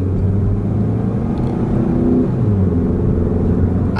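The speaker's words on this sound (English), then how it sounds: "Hope you're able to hear all that V-tec in that car." A Honda VTEC car engine revving hard and continuously, a loud, steady roar with rising and falling pitch, close by with no talking.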